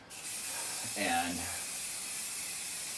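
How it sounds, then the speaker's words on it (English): A can of spray adhesive gives one short hiss of about half a second during a craft project, fairly close, with a faint background hum and a spoken word just before it. "now I'm using the proper spray"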